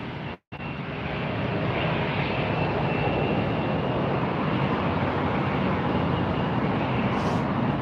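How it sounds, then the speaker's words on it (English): Alaska Airlines jet taxiing at LAX, a steady loud broadband engine roar that holds nearly unbroken throughout, with one brief dropout near the start. "Alaska taxiing into position."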